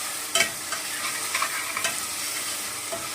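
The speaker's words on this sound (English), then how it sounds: "So I'm checking the onions again now. Cooking away nicely." Onions frying in a pan, a steady broadband sizzle throughout with a few light scrapes and stirring knocks from a utensil, close and moderately loud, no talking.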